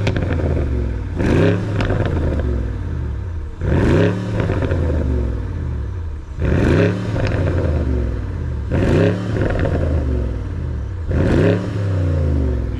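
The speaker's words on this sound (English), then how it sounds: "Yo, rev it real quick." A BMW M550i with its resonator deleted revs repeatedly, five sharp throttle blips rising and falling at an even pace over a loud, deep idle rumble, close by with no talking.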